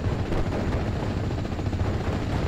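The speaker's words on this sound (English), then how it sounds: "All of that machine gun and cannon fire." Sustained machine gun and cannon fire from a Steel Division: Normandy 44 battle, a dense, continuous rattle of overlapping shots without pause.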